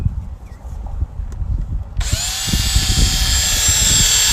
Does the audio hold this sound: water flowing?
no